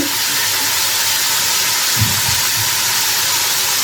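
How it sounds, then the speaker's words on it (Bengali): Soy sauce hits a hot pan during Chinese-style home cooking, giving a steady broadband hiss and sizzle throughout, with a brief low bubbling burst near the middle. "অল্প একটু সয়া সস দিয়ে দিচ্ছি"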